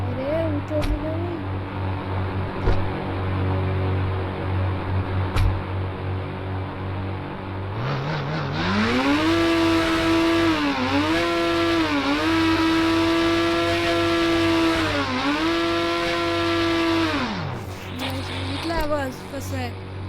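A car engine in a video game revs up, holding a steady high whine with two brief dips before dropping away, loud over a constant background hum and music-like tones.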